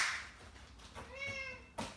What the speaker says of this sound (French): c'est le chat qui me perturbe